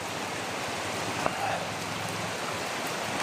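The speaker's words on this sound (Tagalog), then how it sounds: "5 araw na yung ulan dito." Heavy rain falls on the fifth straight day at a flooded house, a dense, even hiss of drops on surfaces at moderate level, with one brief sharp knock partway through.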